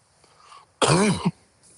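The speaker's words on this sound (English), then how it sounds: "I'll try to minimize my coughing" A single harsh, throaty cough from someone sick bursts out loudly for about half a second during a livestream, then silence.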